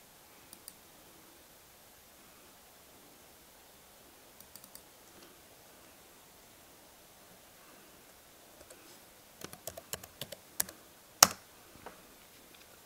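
Sparse, faint clicks of keys being tapped on a computer keyboard to log in, with a few scattered taps early on and then a quicker cluster of sharper keystrokes near the end, in an otherwise quiet room.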